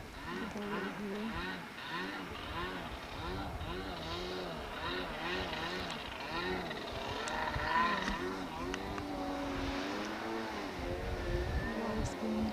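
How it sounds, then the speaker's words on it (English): Motorboats on Lake Pleasant, with water skiing going on, make a steady droning engine hum that runs through the whole stretch, heard at a distance under nearly continuous talk. "So those are the sounds of the boats."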